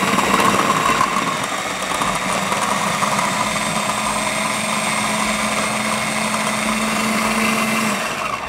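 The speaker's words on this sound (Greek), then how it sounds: "Πάμε άλεσμα." A food processor blending mint pesto with oil and pasta water, a loud steady motor whir with a constant grinding drone running unbroken for several seconds before easing off at the end.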